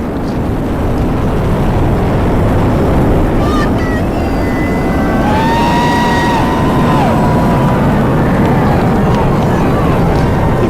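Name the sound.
Falcon Heavy rocket engines roaring at launch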